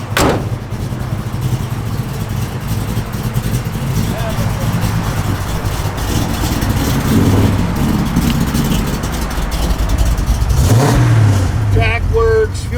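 A 1969 Chevrolet El Camino engine runs with a steady, loud, low rumble that swells slightly near the end, like a light rev.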